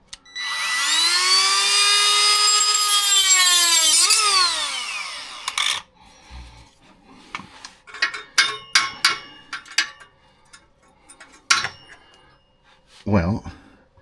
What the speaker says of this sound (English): I'm gonna try the rotary tool, M12 rotary tool with a cutoff wheel on it